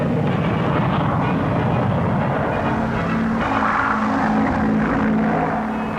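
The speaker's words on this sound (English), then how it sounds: "The Avro 707B differs from the 707A by having a dorsal intake for its Derwent turbojet." An Avro 707B delta-wing research jet with a Derwent turbojet roars loudly and steadily past at the 1950 Farnborough air show.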